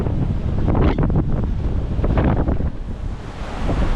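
Strong wind roars across the microphone as waves surge and splash around a sailing boat on a passage off New Zealand, making a loud, continuous rushing wash with no voices.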